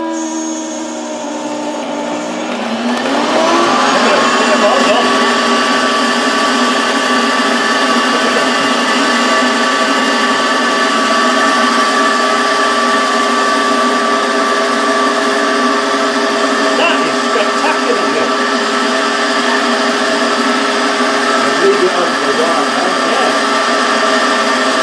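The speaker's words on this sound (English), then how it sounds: "we've quickly made a vacuum bag, and we're going to vacuum it" A vacuum pump switches on and spins up to a loud, steady whine with layered tonal hum, evacuating a vacuum bag for vinyl recovering a Defender lower dash, running continuously close by.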